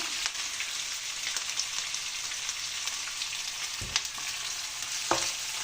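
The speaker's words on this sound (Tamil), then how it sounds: "வெங்காயம் கொஞ்சம் சீக்கிரமாக வதங்கி கிடைக்கும்" Chopped onions with green chilli and salt sautéing in a pan for chicken rice, a steady close sizzle with occasional scrapes and stirring knocks, no voices.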